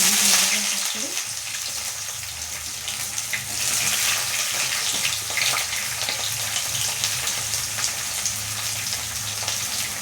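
Chopped onions frying in a pan with spices while cooking a red Bengali kosha mangsho meat curry, giving a steady close sizzle and hiss that runs unbroken from start to finish.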